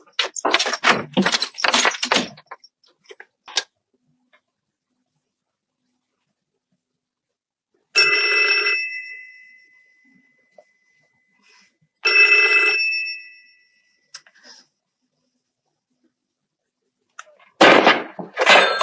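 A landline telephone rings in two separate bursts, each about a second long and about four seconds apart, in a quiet home. Louder noisy clatter sits at the start and end of the stretch, with silence in between.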